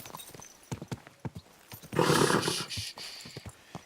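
Horse hooves clip-clop in the video game Kingdom Come Deliverance 2, with irregular close steps and a brief whinny or snort in the middle.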